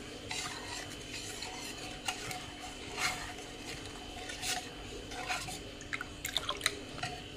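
Semolina chips batter stirred with salt in a bowl, soft wet scraping and a few light utensil clicks against the side, fairly quiet and close.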